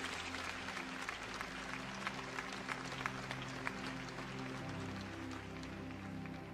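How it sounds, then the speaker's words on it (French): A church congregation applauds continuously for Jesus, a dense, steady wash of many hands clapping in a large room, with a low sustained hum beneath. "Put your hands together for Jesus."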